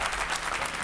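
Studio audience on a Spanish TV debate set applauds a guest taking his seat, a brief, even wash of clapping with no voices over it.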